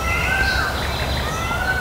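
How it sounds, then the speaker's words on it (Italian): By a roadside, a bird gives thin, drawn-out whistling calls, faint against a steady wash of outdoor background noise. "Che uccello è che fa così?"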